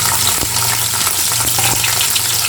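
A small piece of chopped ginger fries in hot oil, alongside garlic, for a fish masala curry, producing a loud, close, continuous sizzle with occasional stirring clicks and no talking.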